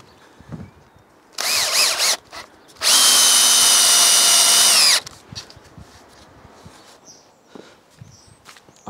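Power drill driving screws into clamped wooden wall frames, a short whirring burst followed by a longer, louder steady run, then quiet shuffling and faint workshop noise.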